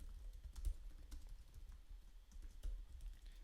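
Steady, quiet typing on a computer keyboard while entering code, with soft rapid keystrokes and a few sharper taps, and no voices.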